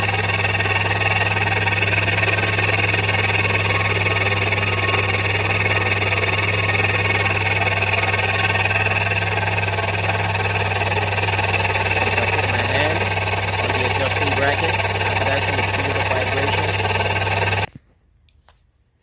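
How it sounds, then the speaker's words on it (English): A running 2007 Toyota Yaris engine with a noisy alternator hums steadily with a loud tonal whine and mechanical buzz, close and constant for about eighteen seconds before cutting abruptly to silence. "There's a loud noise coming from the alternator, so I'm going to start it up"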